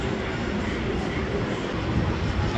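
A San Francisco Muni train pulls into a station, a steady loud rumble of wheels and motors filling the whole stretch with no break, slightly building toward the end.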